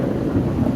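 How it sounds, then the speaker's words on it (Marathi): Thunder rumbles low and steady during a heavy rainstorm, with the rain's wash blended in. The sound is loud and close, a continuous deep roll through the short moment. "ढगात विजांचा गडगडाट चालू आहे सगळीकडे"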